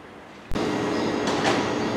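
A train at a railway station in Budapest, with a sudden loud rush of rolling and rumbling noise that stays steady and close, plus brief brighter surges of wheel or track noise.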